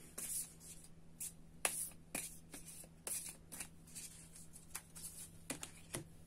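Faint papery riffles and soft taps of tarot cards being shuffled by hand, intermittent bursts close up in a quiet room.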